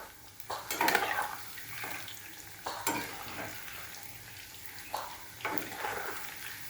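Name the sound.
stirring frying chicken lollipops in a pan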